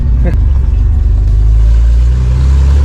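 A Toyota Land Cruiser with a high-performance 2F engine idles loud and close with a deep, uneven, choppy rumble that pulses steadily throughout, while a voice talks over it briefly.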